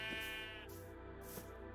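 A sheep in a video game bleats faintly twice over a quiet, steady background tone.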